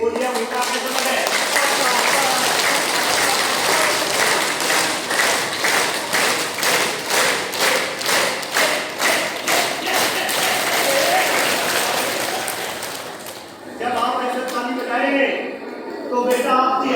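Students at a girls' inter college clap their hands together in a fast, steady rhythm of dense repeated claps for about thirteen seconds, then the clapping breaks off and a voice speaks.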